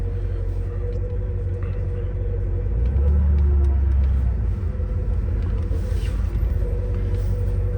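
A 1987 Porsche 928 S4 cruises along a road, its deep, continuous engine and road rumble filling the cabin and swelling slightly midway.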